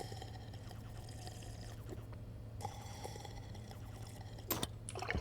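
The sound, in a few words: drinking water in video game Stationeers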